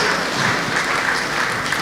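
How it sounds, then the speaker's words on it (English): Audience applause at an investment summit, a steady close wash of many hands clapping for a couple of seconds with no talk over it. "Please give her a round of applause."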